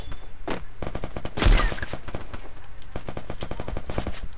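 Rapid automatic gunfire in a video game fired at a wall, a loud, fast string of crisp shots with a brief heavier burst midway and hardly any pause.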